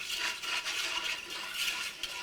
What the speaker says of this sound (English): Stir this until the gelatin is dissolved.